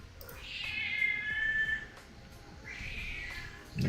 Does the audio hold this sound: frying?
no